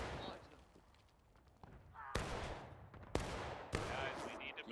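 Artillery fires in the Civil War game War of Rights, three sharp, booming shots ringing out over a busy battlefield din of distant musketry, each with a rumbling tail.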